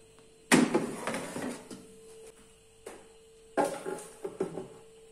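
Air fryer baskets are pulled out in two bursts of handling, each a sharp plastic-and-metal clatter with lighter knocks and scrapes, separated by a quiet pause, close and fairly loud.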